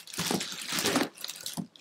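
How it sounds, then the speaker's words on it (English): A network switch shifts inside a plastic bag, giving loud, close crinkling and rustling in irregular bursts that pause briefly near the middle before crackling on. "wow, it's still in the plastic bag"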